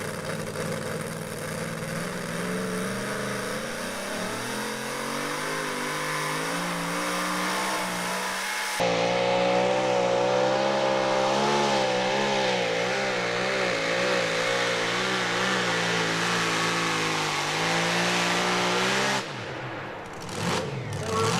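The PA Ridge Runner T-Bucket, a two-wheel-drive pulling truck at the Listie 2 Day Thunder, roars loud and close as its engine revs climb and hold at full throttle, its pitch wavering under load before cutting off near the end.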